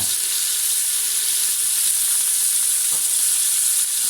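Meat browning in a pot for chorba, a steady, even sizzle that holds at moderate loudness throughout without pause, no voices present.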